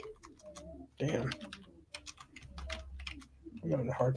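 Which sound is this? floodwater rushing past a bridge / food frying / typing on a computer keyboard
typing on a computer keyboard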